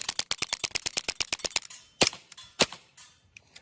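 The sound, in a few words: airsoft gas gun firing shots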